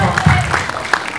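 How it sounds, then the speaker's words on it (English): Audience applause at a film festival Q&A after a screening, a short burst of clapping from a seated crowd under and between voices. "this is applause for everybody"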